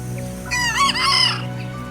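A rooster crows once, loud and close, a rising then wavering cock-a-doodle-doo over a steady low background hum.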